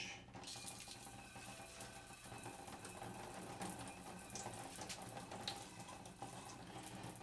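Tap water runs steadily to rinse a telescope mirror during resilvering, a continuous close hiss and splash with slight shifts in pressure and no speech.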